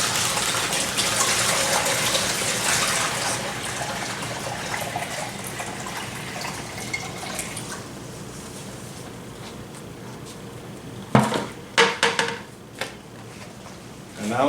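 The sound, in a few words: water being poured into gold recovery table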